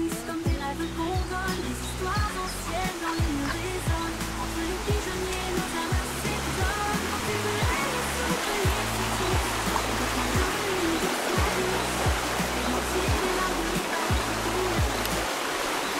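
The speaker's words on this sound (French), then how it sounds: "On entend de l'eau. Et oui, il y a une petite rivière qui coule." A small river flows near a village path, its water rushing in a steady, continuous broadband wash that stays loud and close throughout, with faint low murmuring beneath.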